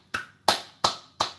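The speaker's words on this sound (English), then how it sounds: "Let's all clap for Myron for saying something smart." Four slow, sharp hand claps ring out close by, each spaced well apart with a short decay, clapping in praise of a person named Myron.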